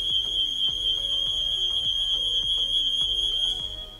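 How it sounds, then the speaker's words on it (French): Qiara home alarm system sounding a steady high-pitched electronic tone, with rapid repeated beeps and chirps layered over it, loud and continuous for a few seconds before starting to fade. "Le petit bip est déjà un petit système, voilà, de dissuasion et après l'alarme vient se déclencher."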